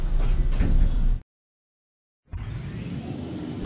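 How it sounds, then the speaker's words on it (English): Automated lift doors in a Roblox game slide shut with a steady whooshing glide, then cut to silence before a second, fainter sliding rush follows, with no voices present. "Doors closing."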